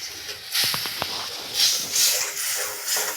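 Water splashing into a frying spice masala in a pan, a loud steady sizzling hiss that rises in bursts with a few sharp crackles, close and without talk.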